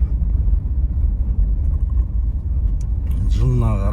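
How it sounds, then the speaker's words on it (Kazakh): A Toyota 4Runner engine rumbles with steady low road and engine noise while driving, loud and continuous, with a voice starting near the end. "Toyota 4Runner деген машина бұл."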